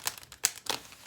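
Oracle cards being shuffled by hand, giving three crisp papery riffles in quick bursts, close and fairly quiet with no talking.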